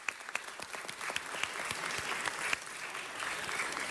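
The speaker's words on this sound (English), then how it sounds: "Give them a round of applause." A dense round of applause from a seated audience at a recognition ceremony, steady crackling claps with a few louder sharp claps, sustained throughout without speech.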